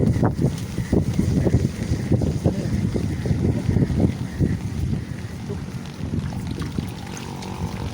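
Gusty wind during rain buffets the microphone with a constant low rumble and irregular thumps, mixed with water sloshing nearby while fishing for tilapia.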